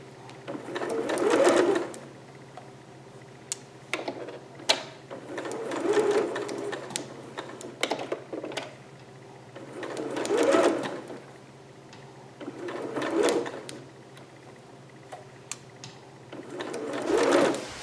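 Sewing machine running in several bursts, each a couple of seconds long with pauses between, as it stitches over thick double seams in stretch velvet; a steady low hum sits beneath the whole passage.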